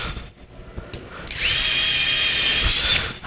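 A power drill fitted with a countersink bit bores through wood for a spider-style nightstand build, a loud steady high whine running about a second and a half after quieter handling noises, then cutting off.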